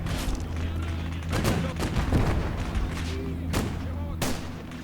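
A Battle of Kursk infantry fight in the Gates of Hell war game brings repeated loud gunshots and booming blasts in irregular bursts over a low steady rumble.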